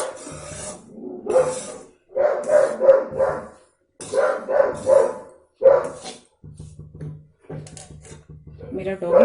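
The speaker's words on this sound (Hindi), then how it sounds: "मेरा डॉगी भी ना बाहर के कुत्तों के साथ ऐसे सुर मिला के पीछे पड़ जाता है भौंकना।" Pet dog barking along with dogs outside, repeated loud close barks in irregular bursts with quieter yips and a low hum between them.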